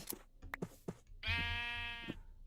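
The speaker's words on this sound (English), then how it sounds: "Hello, Mr. Sheep." Sheep bleats from a Minecraft game, with several short calls followed by one long, clear, drawn-out bleat close up, and no talking.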